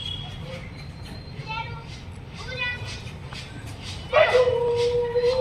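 A puppy gives a few short high yips close by, with other faint voices and background chatter around it and a louder, sustained whine near the end.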